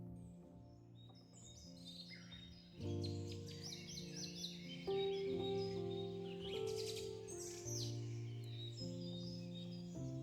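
Birds chirp and tweet around a sturdy wooden bridge high in the Pohorje forest of Slovenia, scattered bright calls overlapping steadily beneath sustained background music.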